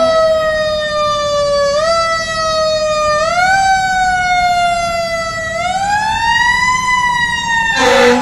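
Fire truck siren wailing loud and close, its pitch sweeping up and down in long glides as the emergency vehicle passes on Gallatin Road near a minor rear-end crash, with traffic rumble underneath.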